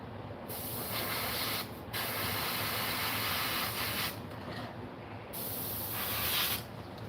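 Bursts of aerosol or airbrush spray paint hiss onto a fishing lure, several sustained sprays separated by short pauses, close and steady.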